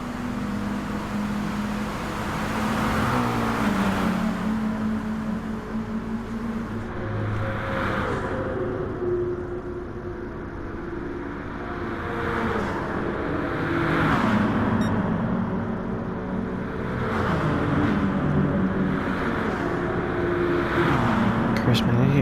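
Several racing cars, a McLaren among them, in a touring car race on the Tokyo East inner loop in a racing video game: steady engine drones rise and fall as the cars run close together, under continuous excited commentary.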